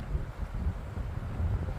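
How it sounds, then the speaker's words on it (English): Wind gusting across a forest trail on the Arizona Trail between Summerhaven and Gordon Hirabayashi Campground, a steady low rumble buffeting the microphone throughout, with no talk. "Oh, windy."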